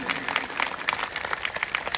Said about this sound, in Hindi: माता और बहनों के लिए जोरदार ताली होनी चाहिए